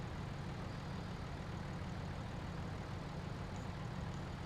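A tractor engine in Farming Simulator 17 strains to pull an oversized trailer through a Slovak village, giving a steady low, heavy drone that stays constant throughout with no breaks.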